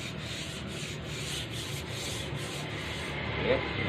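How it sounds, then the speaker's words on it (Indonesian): Steady rhythmic rubbing of sandpaper scraping back and forth over a kite frame by hand, close up, with repeated even strokes and no talking. "Usahakan mengamplasnya ini bagian-bagian yang belum kena ya, kayak sudut-sudutnya ini"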